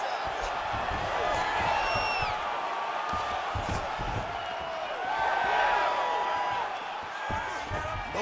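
A video game arena crowd at a UFC 5 fight roars and cheers steadily with rising whoops, and a commentator's voice runs over the noise.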